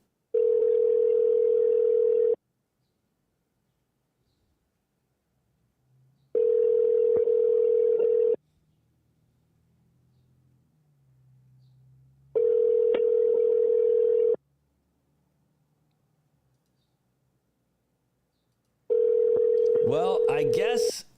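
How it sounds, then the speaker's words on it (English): Telephone ringback tone on an unanswered call, four evenly spaced two-second tones separated by silent gaps of about four seconds, clear and steady, with faint background sounds between them. "we're not going to get this phone call answered. That's a lot of rings."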